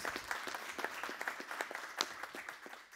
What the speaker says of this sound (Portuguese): queria que vocês dessem um aplauso, um aplauso aqui a todo o setor de homicídios